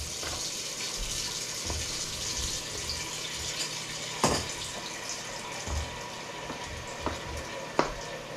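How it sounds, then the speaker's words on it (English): Water runs steadily into a cooking pot being filled to about two inches for steaming raisin dumplings, a continuous splashing flow broken by a few clanks of the pot. "I need to get at least about 2 inches of water on it."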